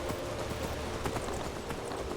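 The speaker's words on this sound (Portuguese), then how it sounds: "Olha o cavalo ali." A horse clip-clops along in Skyrim while climbing a mountain, with a steady run of hoofbeats at a moderate level over a soft background wash.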